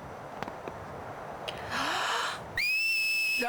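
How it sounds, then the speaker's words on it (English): A character in Final Fantasy X HD whistles. Faint ticks come first, then a breathy rising whistle, and the clip ends on a loud, sustained high whistle tone. "She's learned how to whistle."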